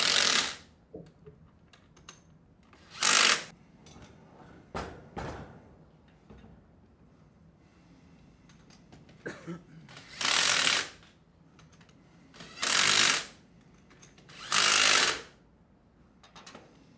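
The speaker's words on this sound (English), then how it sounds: "Go ahead and tighten the bolts up a little bit and then tighten them down evenly in a star pattern." Four loud bursts of ratchet-wrench clicking, each lasting about a second, with scattered lighter clicks and handling noises between them, come from tightening bolts in a star pattern on a Sandpiper HD20F non-metallic pump assembly.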